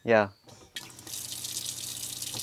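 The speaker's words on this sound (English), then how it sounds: "water tap here with even the option to wash your hair really quickly here" Tap in a camper van with a woodstove: after a brief bit of speech and a knock, water starts running steadily from the faucet, a close hiss that continues to the end.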